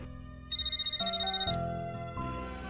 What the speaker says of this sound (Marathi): घ्या, तुमच्या ह्यांचा फोन आला, घ्या.